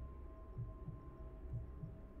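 A heartbeat thuds in the horror video game Welcome to Kowloon, a slow, low double-thump repeating about twice over a steady hum, close and alone with no voices.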